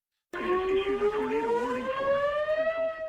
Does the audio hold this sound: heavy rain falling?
no